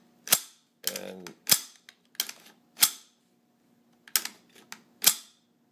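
AR-style rifle bolt carrier group, a conversion bolt with new firing pin and extractor, cycling in a series of sharp metallic clacks and snaps, about eight distinct hits spaced irregularly, close and crisp with silence between.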